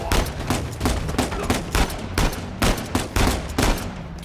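Pistol gunshots in the Uncharted 4 video game, a loud, rapid string of about a dozen sharp cracks fired in quick succession with little pause between them.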